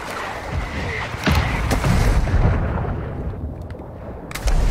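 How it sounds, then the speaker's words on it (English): Mortar strike explosions in a video game boom close and loud, a burst of heavy blasts with rumbling debris that tapers off before another hit at the end. "Friendly mortar strike inbound."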